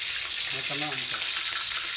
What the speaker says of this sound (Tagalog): Yan, natin piniprito.